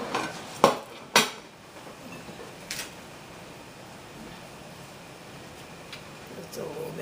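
A plate and dishes are handled on a table during salad prep, giving two sharp, close clinks early on and a lighter knock later over quiet room tone.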